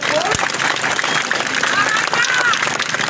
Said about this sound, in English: I want all of you to clap very, very, very loudly for yourselves,